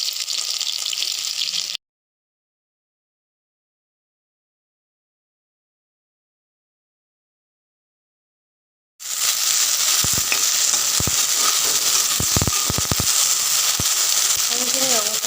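Onion and hot green chili fry in hot oil with a bright, steady sizzle. It is heard briefly at the start, then returns after a long silence with louder crackling, clinks of stirring and a voice speaking.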